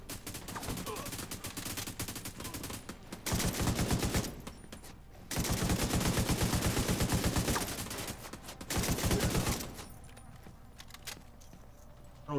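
Rapid automatic gunfire in The Division 2 shooter game, several long sustained bursts separated by short pauses, loud and close, with faint voices in between.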